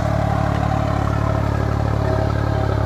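A New Holland 5620 4x4 tractor engine chugs steadily at close range while pulling a 24-disc harrow, with a rapid, even pulse and some metallic clatter, loud and unbroken throughout.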